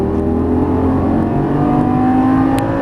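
A Lamborghini Gallardo Superleggera LP570-4 engine holds a loud, steady howl under throttle on a racetrack, its note climbing smoothly at close range with no talk over it.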